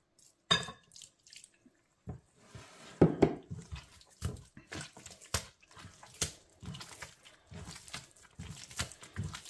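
Liquid is poured into bread dough in a mixing bowl and worked in by hand, giving soft splashes, drips and wet squelching sounds in irregular bursts, close and fairly quiet.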